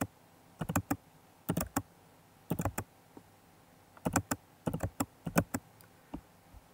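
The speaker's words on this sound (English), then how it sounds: "When the results are in, we simply type in the letters." Computer keyboard keys typed in short clustered bursts of sharp clicks with pauses between, close and fairly quiet, no talking.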